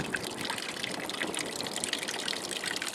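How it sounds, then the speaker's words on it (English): Water gushing and trickling steadily out of a motorcycle's cooling system while it is flushed during a coolant change, a continuous splashing flow close by. "So I will keep adding more water to flush it."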